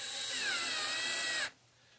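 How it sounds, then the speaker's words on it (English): Power drill pre-drilling a hole for an ATV speaker tube, a steady high whine that sounds close and alone, dropping slightly in pitch and then stopping abruptly after about a second and a half. "pre-drilling the hole"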